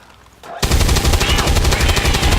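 Rapid automatic gunfire from a grenadier's weapon in XCOM 2, a loud sustained burst of closely spaced shots that starts abruptly after a quiet moment and continues steadily to the end.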